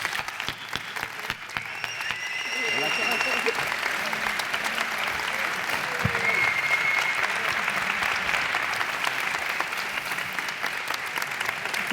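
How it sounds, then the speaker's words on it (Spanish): Sustained audience applause at the Galanura traditional costume festival in Tiedra, Zamora, building after a couple of seconds into dense steady clapping from a large crowd that carries on to the end, with a few voices mixed in. "Un aplauso."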